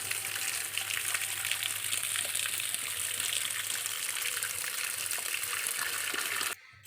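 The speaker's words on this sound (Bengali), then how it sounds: "দেখো আমগুলো আমি জলের মধ্যে ধুয়ে নিচ্ছি" Mangoes are washed in water with a continuous close gush and splash, like running tap water, which stops abruptly near the end.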